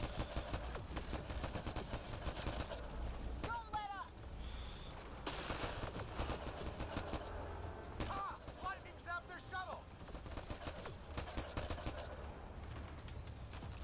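Rapid bursts of gunfire from a firefight in the video game Mass Effect Andromeda, dense and continuous over a cluttered mix of game effects and music, with voices talking over the shooting.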